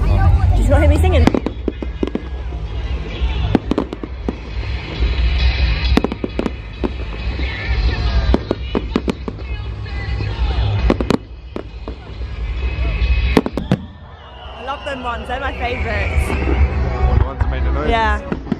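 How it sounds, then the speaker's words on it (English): Fireworks bursting at a bonfire night display at Alexandra Palace, with a rapid series of loud cracks and booms, some crackling bursts, continuing over steady crowd chatter and nearby voices. "But we're gonna watch a fireworks now."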